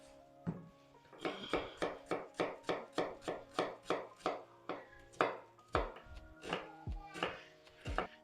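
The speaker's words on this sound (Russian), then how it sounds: "Крошить будем лук мелко." An onion is finely chopped with a knife on a board, a run of about fifteen evenly spaced crisp chops close up, followed by a few slower, heavier knocks.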